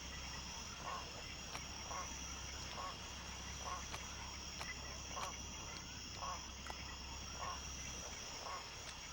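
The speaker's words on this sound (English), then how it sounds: "Frogs." Rhythmic frog croaks repeat at regular intervals against a loud, dense game-world ambience of chirping insects in Jurassic Park: Operation Genesis, with occasional sharp ticks layered in.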